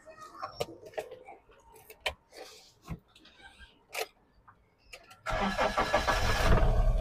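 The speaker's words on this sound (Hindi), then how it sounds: "चाबी दियो एक बार, आपको गाड़ी का साउंड सुना देते हैं इंजन का।" A 2018 Mahindra Scorpio S3 engine cranks and catches after a few quiet clicks and knocks, then settles into a loud, steady close-up idle.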